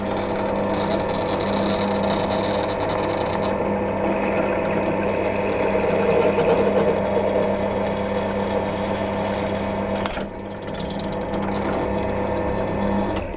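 A hand-held drill bores a 3 mm pilot hole into an exhaust tube on a HEMI engine, held at a slight angle: a steady, close, continuous whirring motor drone with a grinding texture that holds level throughout, then briefly dips near the end.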